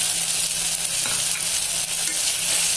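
Mint leaves dropped into a hot pan with tomato, salt and turmeric for egg biryani, giving a loud, steady close-up sizzle with light stirring scrapes and no talking.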